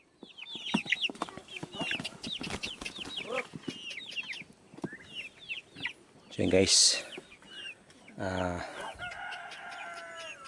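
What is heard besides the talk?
free range chickens clucking and crowing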